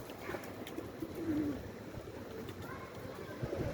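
A Kosovo tumbler pigeon gives soft cooing among other pigeons, faint and partly masked by steady outdoor noise, with a person's voice nearby.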